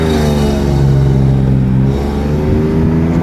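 A car engine revs loudly and steadily up close, the engine burning oil and smoking, with a deep sustained roar and strong low harmonics that shift slightly in pitch.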